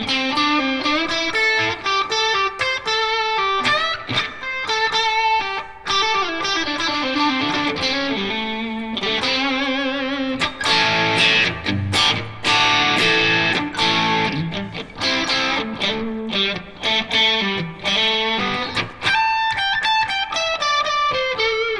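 Electric guitar on the middle single-coil pickup of a John Page Classic Ashburn, played through effects with some distortion and chorus. A bright, full run of chords and melodic lines rings steadily and closely, with no talking.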